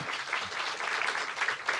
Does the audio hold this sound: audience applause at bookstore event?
yes